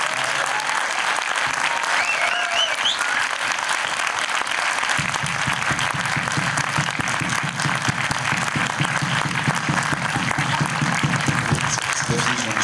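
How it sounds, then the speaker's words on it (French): A theatre audience at a film preview with the director and cast of Des Nouvelles de la Planète Mars applauds, with dense, sustained clapping that holds steady for over twelve seconds and a few faint voices early on. "je vous demande tous de les applaudir"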